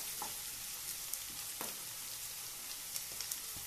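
Ginger paste and spices frying quietly in a pan, a soft steady sizzle with occasional faint pops and stirring taps.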